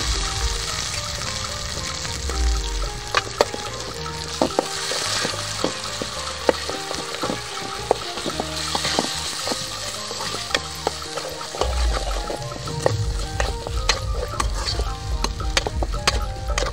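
Stone-ground spices fry with browned onions for a village-style chicken curry, a loud, close, steady sizzle punctuated by frequent sharp spoon clicks and scrapes against the pan, with no talking.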